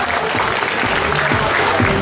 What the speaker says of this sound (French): Formidable, on peut applaudir Lucas.